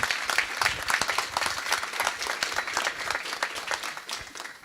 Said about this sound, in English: So one more round of applause, please, for her work.